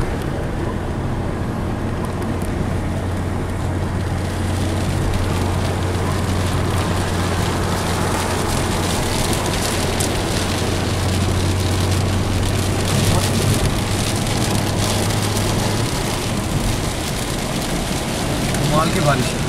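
Heavy rain pouring in Moscow, a dense steady hiss of drops on the street with passing traffic and a low hum beneath, continuous and loud throughout.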